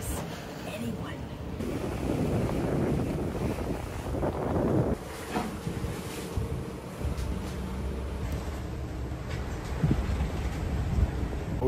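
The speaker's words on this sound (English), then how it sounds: "We got 17 knots of wind, pretty much on the beam, and we just reached hull speed" Strong wind rushing over a sailboat at sea, blowing about 17 knots on the beam as the boat reaches hull speed: a steady, loud buffeting roar against the microphone with water and hull noise beneath, unbroken for the whole stretch.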